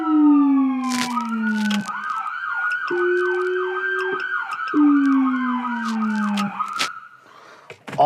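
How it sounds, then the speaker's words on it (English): Ambulance fitted with a Whelen system of dual sirens and a howler, tied to a Whelen Carbide controller, sounding loud and close: rising and falling wails and rapid yelp sweeps, cut through by deep howler tones, with no voices. "with the dual howler and dual sirens"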